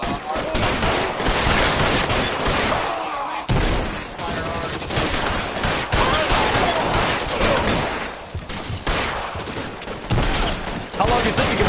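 Rapid, loud bursts of gunfire in an L.A. Noire police shootout, shots cracking one after another almost without pause, with voices breaking in between the volleys.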